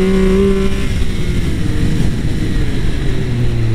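A Triumph Speed Triple 1200 RS motorcycle engine drones loudly and steadily while riding, with a low rumble and a slight rise and fall in pitch.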